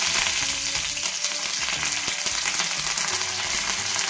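Curry leaves crackle and sizzle loudly in hot oil on a tawa, a steady dense frying hiss close by that holds throughout.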